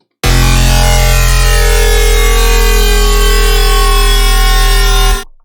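A loud, sustained synth bass tone from Sytrus at 8x oversampling, with a bright, buzzy, harmonically dense edge, holding steady for about five seconds before cutting off.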